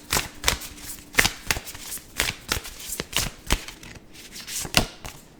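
Tarot cards are shuffled close up in quick riffling bursts, about a dozen crisp flicks and slaps in an uneven rhythm, with no talking.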